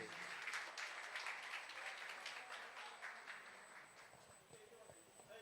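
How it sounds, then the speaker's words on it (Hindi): Audience applause at a karaoke studio anniversary celebration, quiet and distant-sounding clapping that stays fairly even and slowly fades over a few seconds. "तालियां छोटे रफी साहब के लिए"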